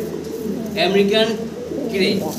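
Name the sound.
Chila fancy pigeon cooing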